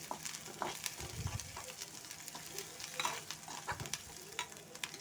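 Garlic-ginger paste fries in a pan with a soft, steady sizzle while a spoon scrapes and stirs in irregular strokes, quiet and close.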